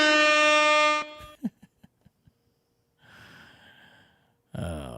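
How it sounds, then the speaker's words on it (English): A loud, blaring air horn sound effect blasts for about a second, then cuts off, followed by a few sharp clicks, some quiet talk, and a brief loud burst at the end. "Oh, you like the air horn, do you?"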